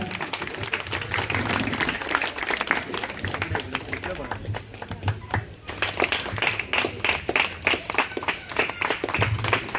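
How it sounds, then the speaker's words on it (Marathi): Applause from an audience at a joint book launch ceremony, rhythmic clapping that swells and continues with a strong speaking voice heard over it throughout. "थोडासा टाळ्यांचा कडकडाट कमी पडतोय का?"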